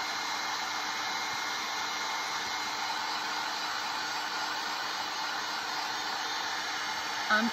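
Heat tool blowing hot air to heat-set a print on a sweatshirt, a steady even airflow hiss and motor whine held at constant level throughout.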